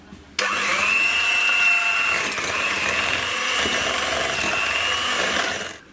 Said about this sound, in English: Now we want to beat this until it's nicely blended.